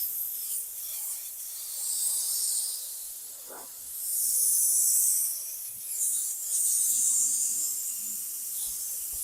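Airbrush spraying paint onto a 1940 Ford pickup cab, a soft hiss that swells and fades in bursts over a quiet background, near and fairly faint.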